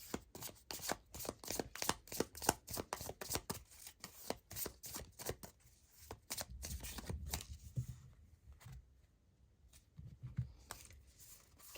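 A deck of runic oracle cards is shuffled in rapid riffling bursts, close and quiet, with the cards tapping and settling in between and no talking.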